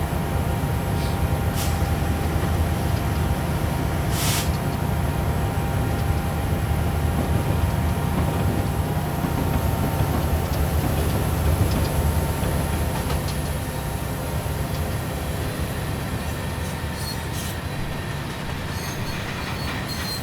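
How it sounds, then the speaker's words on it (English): A Union Pacific SD70ACe diesel locomotive runs at about 40 mph on Sherman Hill in a train simulator game, giving a steady engine drone and rolling wheel rumble throughout, with faint high-pitched squeals and occasional clicks over the rails. "40 miles an hour, this is like an express train."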